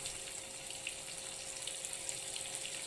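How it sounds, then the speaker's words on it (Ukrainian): Steady soft sizzling and crackling from fish frying in a pan, close and continuous with faint scattered pops. "Ось так, нехай смажиться."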